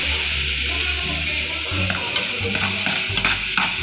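Adobo sizzles steadily in a pan as soy sauce goes in, a continuous loud hiss with some stirring clatter and a low background hum, while a voice talks.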